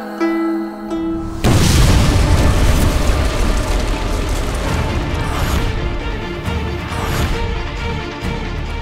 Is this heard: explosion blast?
yes